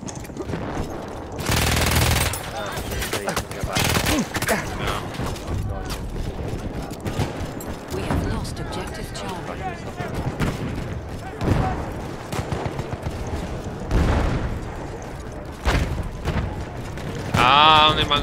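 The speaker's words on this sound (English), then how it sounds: "Oh, grenade." In the Battlefield 1 video game, a grenade blast and bursts of gunfire crack and boom repeatedly over a busy battlefield, with a player talking intermittently over the action.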